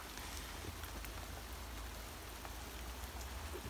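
Heavy rain pours steadily during a solo cycling trip along Ireland's Wild Atlantic Way, a dense, unbroken hiss of drops hitting the ground up close with no talking.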